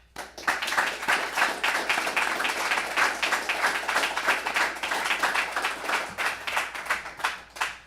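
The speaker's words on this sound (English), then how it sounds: "I do want to give a round of applause to all the families that have supported you guys along the way." An audience at an executive protection training graduation claps for the families, sharp individual hand claps blending into a lively, sustained round that holds steady for several seconds.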